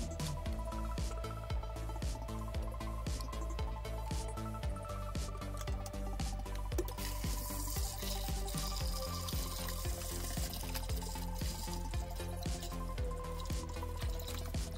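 Water runs steadily and splashes while aquarium fish tanks are topped up during water changes, a continuous close trickle with dripping and pouring over the whole stretch and no talk.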